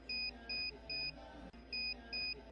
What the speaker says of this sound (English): the buzzer will start making noise like the SOS Morse code